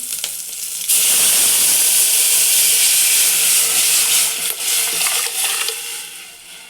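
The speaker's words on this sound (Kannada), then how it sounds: "ಈಗ ಒಗ್ಗರಣೆ ಫ್ರೈ ಆಗಿದೆ ಬೆಳ್ಳುಳ್ಳಿ ಒಣಮೆಣಸಿನ್ಕಾಯಿ ಕರಿಬೇವು ಸಾಸಿವೆ ಎಲ್ಲ ಸೊ ಇದನ್ನು ಹಾಕ್ತಾ ಇದ್ದೀನಿ" Hot oil tempering of garlic, dry chili, curry leaves and mustard seeds is poured into tomato and tamarind rasam, bursting into a loud, steady sizzle and hiss that settles gradually over several seconds.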